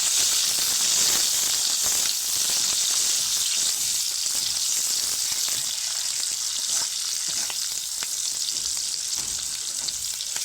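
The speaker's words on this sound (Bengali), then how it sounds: "এটা পেঁয়াজ, শুকনো লঙ্কা, তেজপাতা ভেজে নেবো।" Onion, dried red chili and bay leaf fry in hot oil for a Bengali moong dal with papaya, making a loud, steady, close sizzle that continues without a break.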